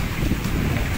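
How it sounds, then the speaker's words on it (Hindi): A strong windstorm in Lahore roars with heavy rain and gusting wind, a dense, loud, continuous wash of noise close to the microphone with no talk. "इस टाइम आंधी चल पड़ी है, बहुत तेज़ तूफान आ चुका है यहाँ पे"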